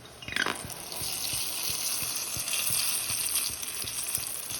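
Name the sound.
battered chile relleno pepper frying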